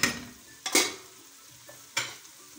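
Prawns go into a pan of softened frying onions for a prawn and onion curry, giving sharp bursts of sizzling and stirring: one at the start, a louder one near the middle, another toward the end, with quieter frying between.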